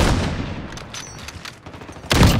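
Gunfire in a Call of Duty Modern Warfare match, a steady rattle of automatic shots with a louder close burst near the end, no talk over it.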